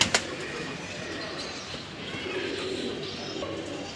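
A pair of red Gorra pigeons coo softly and repeatedly nearby at a pigeon sale, with a brief flutter at the start and a faint background murmur.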